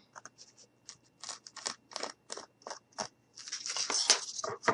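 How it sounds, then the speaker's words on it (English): Scissors snip through paper in a steady series of crisp cuts, followed by a longer, rougher stretch of continuous cutting, close and fairly quiet. "take my scissors, and we're just going to mark and cut"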